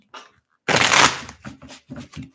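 A deck of cards being shuffled up close: a short riffle, then a louder burst of flicking cards, followed by several quick, soft taps as the deck is squared.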